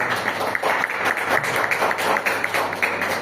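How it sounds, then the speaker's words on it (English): An audience breaks into a round of applause, dense overlapping hand claps sustained at steady loudness for a few seconds indoors. "maybe a round of applause"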